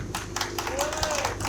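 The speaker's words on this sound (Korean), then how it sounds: "여러분 뜨거운 박수로 환영해 주시기 바랍니다." Rally crowd at an outdoor political gathering claps to welcome a speaker to the podium; quick rhythmic claps sound over a busy background, with voices talking faintly underneath.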